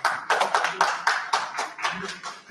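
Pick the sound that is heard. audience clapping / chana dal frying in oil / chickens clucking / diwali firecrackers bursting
audience clapping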